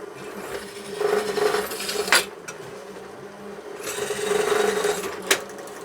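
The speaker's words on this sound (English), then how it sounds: "you can use it to drill it in the same place." A power drill bores holes in table parts through a clamped template, whining in two short bursts, each ending with a sharp click, against quiet shop background.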